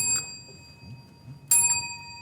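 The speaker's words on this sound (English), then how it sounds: "if you know the answer, you ring the bell" A quiz bell rung on a talk show: two bright metallic dings, the second louder, with a ringing tail over a low room murmur.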